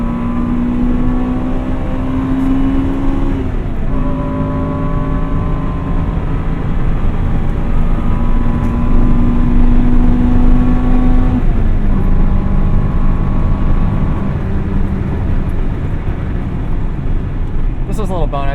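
A 1998 Acura Integra Type R drives with its engine droning loudly inside the cabin, pitch climbing and falling through gear changes, while people talk over it.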